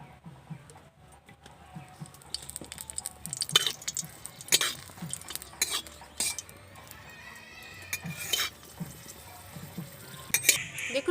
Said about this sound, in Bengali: লঙ্কাটা আমি শুকনো কড়ায় ভালো করে নেড়ে চেড়ে নিয়েছি। এবার আমি তেল দিয়ে দিচ্ছি।